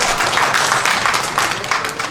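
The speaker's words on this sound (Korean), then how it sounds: "박수 한번." Audience applause at a Korean church book-launch ceremony, a dense steady wash of many hands clapping for about two seconds, loud and continuous with no talk over it.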